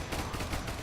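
Dense, continuous gunfire in Ultimate Epic Battle Simulator, a steady rattle of many guns firing at once in a large battle, fairly loud and unbroken through the moment with no talk.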